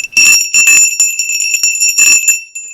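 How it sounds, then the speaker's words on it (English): A bright metal 19th-century sleigh bell shakes in several quick bursts, close and loud, its high ringing tone lingering between shakes. "This is an actual 19th century jingle bell, sleigh bell"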